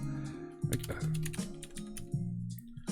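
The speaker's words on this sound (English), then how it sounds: "What are you typing?" Fingers tap quickly on a computer keyboard during a coding session, a close, quiet run of irregular key clicks with short pauses between bursts.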